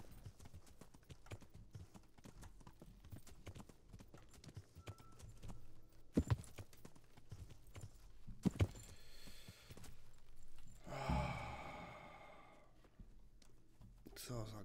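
Horse hooves clip-clop steadily on the ground in the medieval video game Kingdom Come Deliverance, a continuous walking rhythm with a couple of sharper knocks midway, while someone talks over it.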